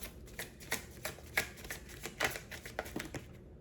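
Tarot cards being shuffled by hand, a soft close-up series of quick riffling flicks and slaps in an uneven rhythm, quiet and without talk.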